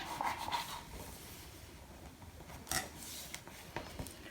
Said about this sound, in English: Give that a burnish.